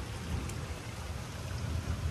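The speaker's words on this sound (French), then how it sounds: "forte pluie" Heavy rain pours steadily during an early-evening thunderstorm in Metz, a dense, close hiss of falling water that continues without pause.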